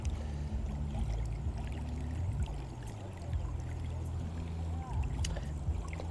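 A boat moving along the clear Song River, a steady low engine drone with water sloshing and trickling against the hull throughout, a voice speaking faintly underneath.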